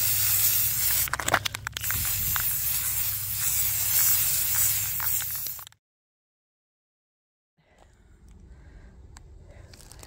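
A spray paint can hisses steadily in a long, close burst over tiles laid on a plastic tablecloth, stops abruptly into silence, and then faint handling noises follow.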